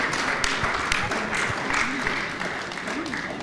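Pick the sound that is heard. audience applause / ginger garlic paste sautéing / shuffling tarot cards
audience applause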